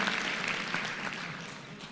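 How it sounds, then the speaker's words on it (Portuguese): An audience breaks into brief, soft applause, a short wash of many hands clapping that fades slightly toward the end. "Uma salva de palmas para ele."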